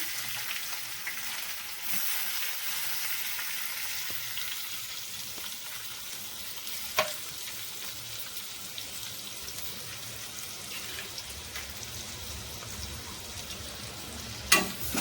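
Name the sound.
onion with curry leaves and ginger-garlic paste frying in a pan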